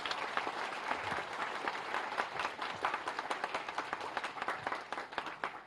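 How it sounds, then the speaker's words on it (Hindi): Steady, fairly quiet applause from an audience of students and staff at a school event in Delhi, continuous crisp clapping throughout with no speech. "एक बार जोरदार तालियां आप सभी के लिए।"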